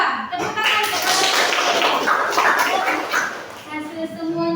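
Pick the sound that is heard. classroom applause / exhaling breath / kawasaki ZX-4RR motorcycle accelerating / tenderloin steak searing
classroom applause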